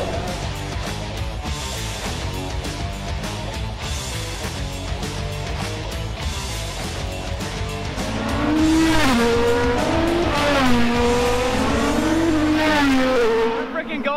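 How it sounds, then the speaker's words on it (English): IndyCar race cars at practice for the 2023 Long Beach Grand Prix street race roar past, engine pitch rising and falling in loud, sweeping waves that swell as the cars close in. "We're watching the IndyCar practice right now."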